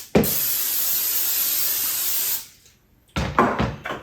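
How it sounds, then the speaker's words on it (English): Pam cooking spray hisses steadily for about two seconds as it coats a mold, a loud continuous spray close by, then a pause followed by a few short rattling handling sounds. "So I'm going to take some Pam, I'm going to spray this down real good so it doesn't stick to my mold."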